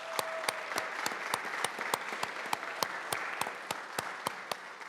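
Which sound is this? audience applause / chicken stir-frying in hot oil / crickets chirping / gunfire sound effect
audience applause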